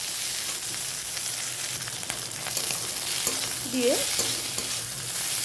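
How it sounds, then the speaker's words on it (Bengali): Fried hilsa fish head dropping into hot oil with five-spice seeds, giving a steady close sizzle with a brief louder crackle and scraping of a spatula partway through. "এবার ভেজে রাখা ইলিশ মাছের মাথাটা আমি দিয়ে দেব।"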